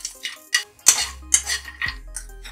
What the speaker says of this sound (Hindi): बस बिल्कुल 1 से 2 मिनट तक भूनना है इसको।